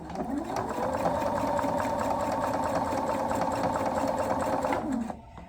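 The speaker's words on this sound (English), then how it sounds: "I'm going to turn off the fix so I can just keep sewing." A sewing machine runs steadily, stitching heavy denim jean fabric with a jeans needle, its fast continuous motor hum and needle clatter loud and close throughout before stopping at the end.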